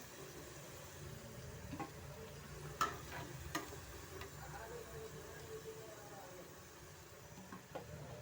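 Green gobi kebab pieces fry in oil with a soft, continuous sizzle and a few light clicks and scrapes from stirring, all fairly quiet.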